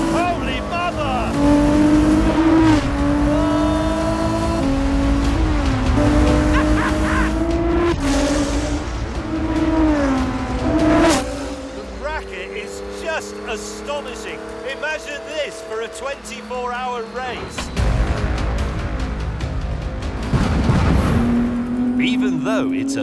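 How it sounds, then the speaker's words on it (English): A 50-year-old Porsche 917 race car screams past at speed, its engine note climbing and shifting through loud sustained revving with tire noise, while people talk excitedly over it. "Even though it's a 50-year-old car, the 917 is fast by the standards of any decade."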